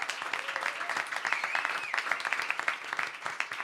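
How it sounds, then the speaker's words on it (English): Audience applause fills a songwriters' circle event, a dense, steady patter of many hands clapping at moderate volume, with faint cheers and voices mixed in throughout. "Big round of applause for them, please"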